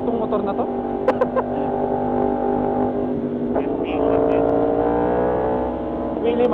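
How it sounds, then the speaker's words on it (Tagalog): A loud motorcycle engine drones steadily on a highway near an intersection on a ride from Clark to Tarlac City, its close, rumbling tone holding through the clip and swelling slightly toward the end. "Masyadong malakas tong motor na to."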